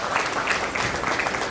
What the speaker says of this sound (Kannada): ಜೋರಾದ ಚಪ್ಪಾಳೆ ತಟ್ಟುವುದರ ಮುಖಾಂತರ ಹೃತ್ಪೂರ್ವಕವಾದ ಸ್ವಾಗತವನ್ನು ಕೋರೋಣ